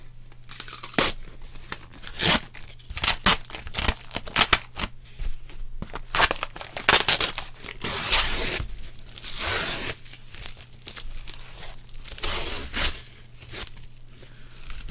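A cardboard package holding a vinyl record is torn open in bursts of ripping and crinkling, close and loud, with irregular pulls and short pauses and no talking.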